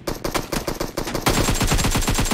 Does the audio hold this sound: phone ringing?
no